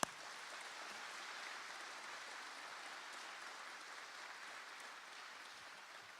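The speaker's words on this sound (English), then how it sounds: "Abby and our color guard another round of applause, please." Steady crowd applause at a Robins Air Force Base event, a continuous dense patter of many hands clapping at moderate distance, with no talking over it.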